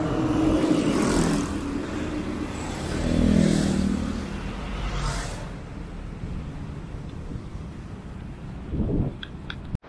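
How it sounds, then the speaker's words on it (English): Cars pass along a busy city street during a walk on Black Saturday, a steady roar of engines and tyres swelling and fading, with one vehicle surging louder midway before the traffic thins out. "Compared to yesterday, there are more cars today."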